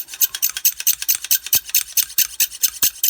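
Rapid, rhythmic rasping strokes of a knife blade drawn across a fine diamond stone on a Lansky sharpening system, close and crisp, repeating about five times a second.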